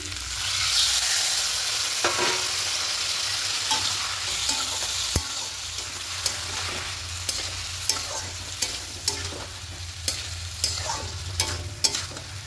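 Cauliflower, potato and egg curry masala frying in an oily pan with a little water, a continuous close sizzle under repeated spatula scrapes and stirs that grow more frequent toward the end.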